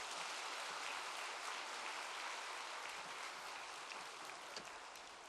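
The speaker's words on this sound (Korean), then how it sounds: "우리 뜨거운 박수로 환영하겠습니다." Warm applause fills a church hall during a Sunday afternoon worship service, a dense, steady clapping that continues evenly without voices.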